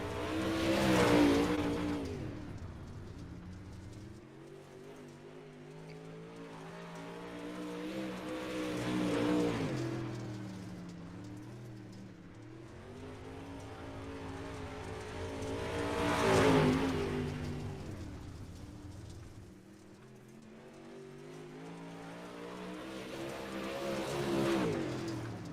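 Modified touring race cars on the Kern Raceway oval in a sim racing game, engines swelling and fading as they lap past in long repeating waves, steady and moderately loud with no talk.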